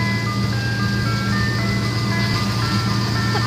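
An ice cream truck plays its tinkling jingle melody over a steady engine rumble, continuous and fairly close, with no one talking.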